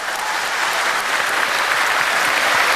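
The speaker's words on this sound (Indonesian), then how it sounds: "Tepuk tangan, thank you." A studio audience at an Indonesian televised talk show on anti-corruption breaks into steady, dense applause that fills the whole stretch at close, even loudness.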